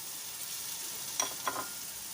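Yogurt hits spiced masala in a hot pan for chicken tikka biryani, giving a steady close hiss of sizzling with two brief louder crackles.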